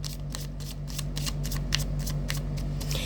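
Tarot cards are shuffled close up in a run of quick, crisp riffling bursts that repeat rhythmically at a low, steady level. A faint hum sits underneath, with no speech.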